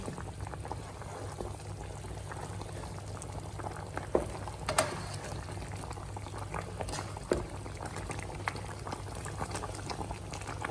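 Jamaican coconut curry crab simmers in a pot with a steady, soft bubbling and a few brief pops and clicks, continuous for about ten seconds with no talking.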